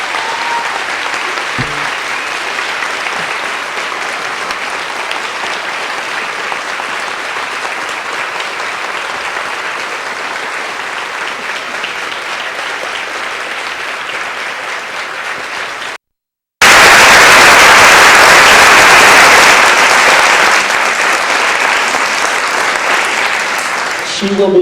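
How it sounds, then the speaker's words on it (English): Audience at a 2006 Q&A with author Maria Amparo Escandon claps in a long, loud, sustained ovation; a brief break, then the clapping resumes even louder. "Let's give a big round of applause for Maria."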